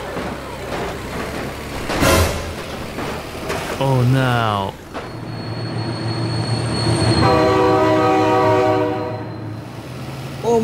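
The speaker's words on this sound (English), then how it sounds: "Oh my God, train!" A train rolls past with a loud, long horn blast in the BeamNG Drive driving game, the tonal horn sustained for several seconds near the end over rumbling rail noise. A shouted voice is heard early on.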